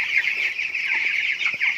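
Hens clucking and murmuring steadily in a backyard chicken coop, a dense, close chorus with short soft calls layered over one another and no talk.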